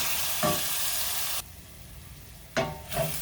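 Seasoned beef fries in a pan for potato soup, a loud steady sizzle broken by sudden drops as the pan is moved or stirred, then bursts of scraping and hiss as stirring resumes, close and without speech.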